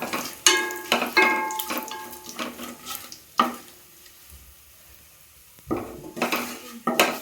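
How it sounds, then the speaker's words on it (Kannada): Kasuri methi and spices are stirred in a pan for tomato rice bath, with sharp metal clinks of a spoon against the pan in bursts, separated by quiet pauses, with only a faint sizzle. "ಈ ಒಂದು ಸ್ವಲ್ಪ ಕಸ್ತೂರಿ ಮೆಂತೆ ಹಾಕ್ಕೊಂಡಿದ್ದೀನಿ ಒಂದು ಸ್ವಲ್ಪ ಫ್ರೈ ಮಾಡ್ತೀವಿ"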